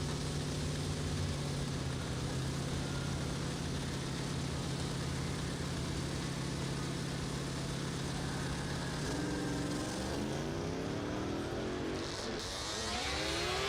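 Snowmobiles roaring at a drag strip: a loud, continuous engine drone that swells into rising revs as the sleds launch, close and steady throughout.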